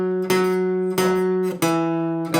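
Three plucked guitar notes at the same pitch, each struck cleanly and left to ring before the next, spaced evenly with no talking.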